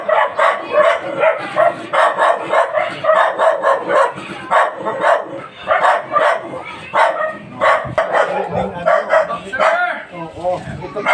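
Dog barking repeatedly and agitatedly near a house gate, sharp rapid barks in steady bursts with people talking over and between them.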